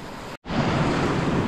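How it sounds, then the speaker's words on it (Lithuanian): Sea surf on an English beach washes in steadily and loudly, with wind noise buffeting the microphone and a brief dropout near the start. "Srovė ir bangos."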